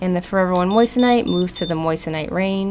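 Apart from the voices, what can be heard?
gem multi tester beeping as probe touches metal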